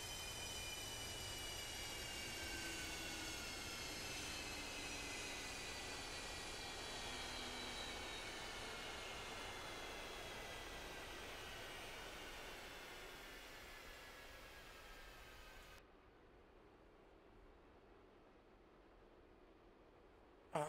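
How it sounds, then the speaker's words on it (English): An F/A-18C jet engine spools down at shutdown in the DCS World flight simulator, a steady whine and roar with a slowly falling pitch that fades, then drops sharply quieter near the end, with no talk. "You can hear those the last engine spooling down."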